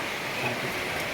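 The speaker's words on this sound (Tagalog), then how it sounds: "kahit umuulan." Rain falling steadily, a dense even hiss of drops on surfaces heard for a brief moment with no pauses.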